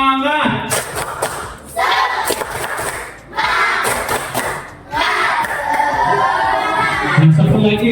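Schoolchildren in a fifth-grade Islamic studies class shout a rhythmic tepuk semangat clapping chant together, loud and close, with bursts of unison voices and claps in repeated phrases.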